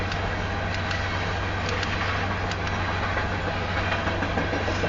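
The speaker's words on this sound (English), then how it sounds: "I was just doing it so that you can hear the train." A southbound Union Pacific grain train on the Spine Line south of Nevada, Iowa, rolls past with a steady, continuous rumble and faint rhythmic wheel clicks, carrying on evenly throughout with no talk over it.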